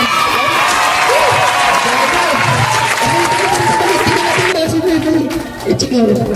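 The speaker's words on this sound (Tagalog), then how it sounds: "Palakpak naman ba?" At a Christmas gift-giving event for senior citizens in the Philippines, a crowd claps and cheers loudly and continuously while a voice carries on over it, the clapping dropping off near the end.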